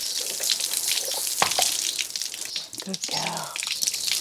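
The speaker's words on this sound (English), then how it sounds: "it's so nice to hose off a horse" Water from a hose splashes steadily over a horse being bathed outdoors in hot sun, a continuous close spray with a voice speaking softly over it.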